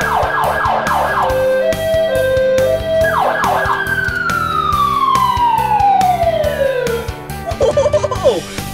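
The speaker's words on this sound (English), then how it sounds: "The siren. Listen." A loud ambulance siren wails up and down, shifting through yelp and falling tones, close and dominant with traffic noise beneath.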